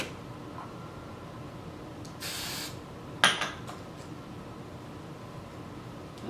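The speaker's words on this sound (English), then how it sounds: "Let's get that hairspray." A can of hairspray gives one short, soft hiss onto hair against a quiet background, followed by a faint clink.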